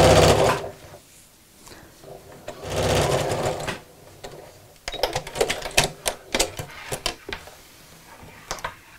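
A sewing machine stitching a backpack seam, starting with a couple of longer whirring runs and then switching to short rapid bursts with clicks between them, close and loud with no talking.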